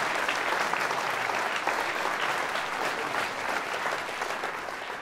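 Crowd at a last campaign meeting applauds a newly introduced candidate, thick continuous clapping that holds steady and fades slightly toward the end, no voices over it.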